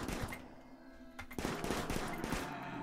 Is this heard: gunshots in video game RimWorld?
yes